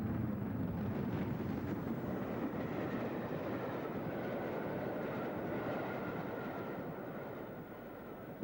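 An LMS Black 5 steam locomotive, number 5407, runs with its train along the North Wales coast, a steady loud rumble with faint rail rhythm throughout and no voices.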